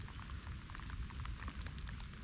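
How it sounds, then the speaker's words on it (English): Steady rain pattering on a hooded detectorist in a medieval stubble field, a dense continuous patter of drops close by with no voices. "Obviously, it's raining"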